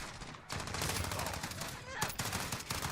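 Rapid automatic gunfire in the video game Call of Duty Warzone crackles in bursts through most of the moment, with a second sharp volley near the end, moderately loud against game ambience and faint voices.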